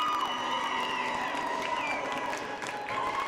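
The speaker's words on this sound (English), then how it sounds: "You hear the Knights crowd here getting all excited" A home crowd at a boys' varsity ice hockey game roars steadily with cheers, whoops and scattered clapping during a power play, a dense, continuous wash heard from the rink.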